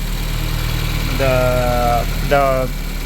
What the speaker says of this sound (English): this is the engine. It runs healthy.